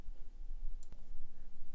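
A single crisp mouse click on a software button in Maya animation software lands near the middle, sharp and brief over a low steady hum.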